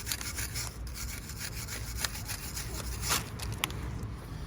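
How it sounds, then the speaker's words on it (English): Wire brush scrubbing a front brake caliper on a Kia Soul during a disc and pad replacement: steady, close, continuous rasping strokes with no speech. "then just finish it off with a wire brush"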